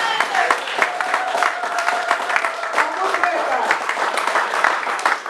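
A church congregation claps and cheers in praise, a sustained wash of applause and raised voices filling the hall for several seconds, loud and close.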